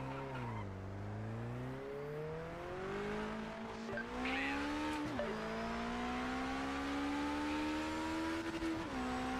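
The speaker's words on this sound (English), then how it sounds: "Sounds like you're absolutely revving the nuts off it." A race car engine in the video game Project Motor Racing, a K20 revving to about 9,700 rpm, drones at high revs, pitch dipping and climbing through gear changes, sustained and loud with no talking.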